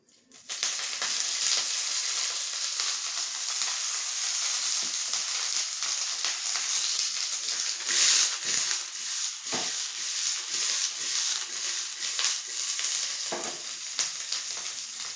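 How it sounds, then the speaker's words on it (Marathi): Green chillies roast in hot oil in a pan, giving a steady, close sizzle with occasional stirring scrapes throughout, no voices present. "आपण थोडंसं तेल घालूयात. इकडे आपण तेल घालतोय."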